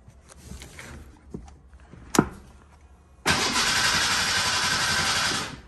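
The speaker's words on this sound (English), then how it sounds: "but I'll show you guys how it cranks." The engine of a 1988 Ford Bronco II cranks steadily and loudly for about two and a half seconds without catching, after a few clicks and a sharp knock, with no speech.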